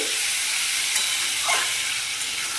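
Mushrooms being stirred into a spice paste frying in a pan. There is a loud, close hiss and sizzle of hot oil, with a brief scrape of stirring partway through and no talk.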